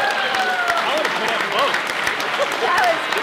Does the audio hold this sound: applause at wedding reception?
yes